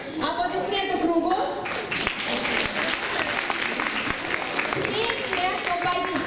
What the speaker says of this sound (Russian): Аплодисменты кругу.